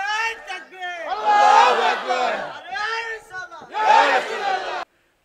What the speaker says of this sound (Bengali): হাত তুলে স্লোগান তোলেন।